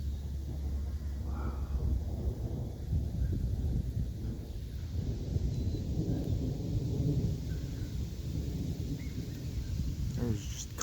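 Thunder rumbles low and continuous through a strong midnight storm with constant lightning, a deep steady roar with wind and rain noise throughout, while people outside speak now and then.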